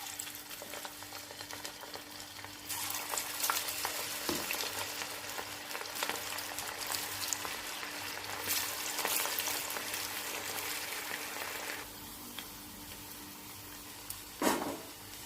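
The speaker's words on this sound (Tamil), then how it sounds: "எண்ணெயில் போட்டுடலாம்." Cauliflower chilli pieces deep-frying in hot oil, a steady close sizzle and crackle that swells louder partway through and then settles back to a lighter fizz.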